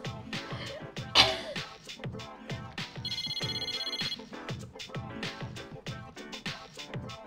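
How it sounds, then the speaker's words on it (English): A video game phone rings with an incoming call, a bright electronic ringtone burst against steady background music, fairly clear and mid-level. "Mitsuru received an incoming call on her phone."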